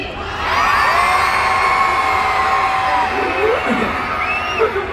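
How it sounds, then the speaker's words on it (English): A large crowd at a concert screams and cheers loudly and continuously, high-pitched shrieks blending into a sustained roar. "I'm definitely seeing some non-baby blinks screaming right now"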